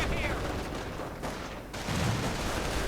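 Gunfire and grenade blasts crackle through a WWII strategy game battle as a Panther tank and Panzergrenadiers clash with riflemen, a dense continuous din with a heavier burst near the end.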